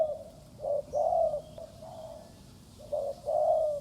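A young spotted dove, a hand-raised chick, gives soft, hollow coos in short phrases, pausing between bursts, fairly close and clear over a quiet rustling background.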